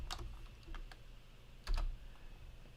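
Sparse keystrokes on a computer keyboard while a numeric value is entered during 3D modeling. A few quiet, separate clicks are followed by one firmer tap, all close-up over a low steady hum.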